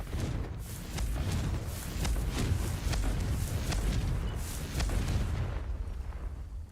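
Fiery blasting-spell explosions go off again and again in Hogwarts Legacy, dense booming bursts with crackling debris rolling continuously for several seconds, loud and close, then fading toward the end.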